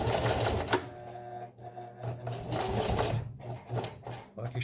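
Sewing machine stitching fabric for a rappel rope bag, running in steady mechanical bursts with brief pauses, close and fairly loud, no talk over it.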